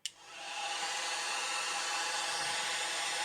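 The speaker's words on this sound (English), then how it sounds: "I'm going to hit that again now with the hairdryer." A hair dryer blasts air over contrast-painted miniatures, starting with a click and then running as a steady, loud, close broadband roar throughout.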